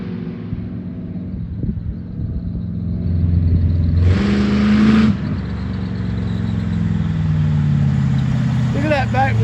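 A car engine revs and accelerates, with a rising engine note, a loud roaring burst in the middle, and a continuing drone afterward, heard from nearby while people talk over it.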